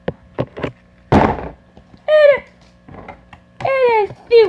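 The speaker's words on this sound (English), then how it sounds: "And a suplex." A wrestling suplex slamming down onto a platform: a few light taps, then a heavy close thud, followed by high squealing, child-like vocal sounds.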